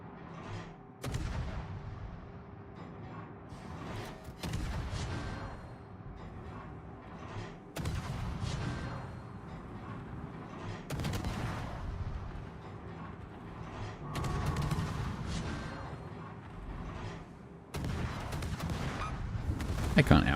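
Naval guns fire in a World of Warships battle, with repeated heavy booms every few seconds over a constant rumbling game background.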